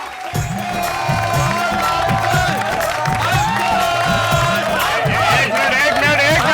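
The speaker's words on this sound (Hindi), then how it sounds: "ये तालियां आप लोग किसके लिए बजा रहे हैं?" A crowd in a comedy sitcom scene claps and cheers loudly, with voices rising in rhythmic, chant-like bursts over continuous clapping that holds at full volume throughout.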